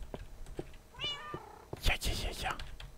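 A cat in the video game Minecraft meows, with a short rising mew followed by louder, busier bursts of cat calls close up.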